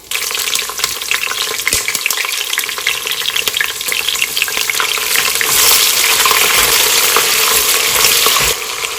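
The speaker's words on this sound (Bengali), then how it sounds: "দিয়ে দিচ্ছি গোটা গরম মশলা দিয়ে দিচ্ছি শুকনো মরিচ দিয়ে দিচ্ছি পেঁয়াজ কুচি" Whole garam masala, dried chili and chopped onion fry loudly in hot oil, a dense close sizzle with busy stirring crackles that swells louder toward the end, with no speech.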